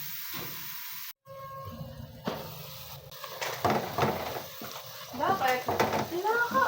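Ground meat frying and being stirred in a pan after garlic and onion, with steady sizzling and scraping throughout, while voices talk over it.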